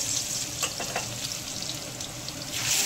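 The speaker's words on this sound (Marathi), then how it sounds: "हे बघा तेल घातलेलं आहे, तेल गरम झालेलं आहे। त्यामध्ये लसूण जिरा अद्रकचा पेस्ट घालत आहे।" Garlic, cumin and ginger paste frying in hot oil, a soft steady sizzle with faint crackles and a few stirring clicks, quiet and close, without talk.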